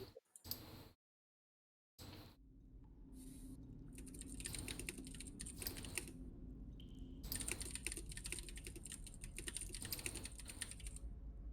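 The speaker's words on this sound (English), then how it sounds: "Whoever who is typing in the background" Soft, rapid computer keyboard typing clicks away in the background of an online Dungeons & Dragons session. The clicks are faint but steady after a brief dropout, with some higher tonal noise mixed in.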